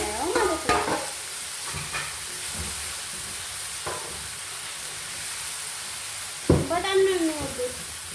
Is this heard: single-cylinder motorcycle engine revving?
no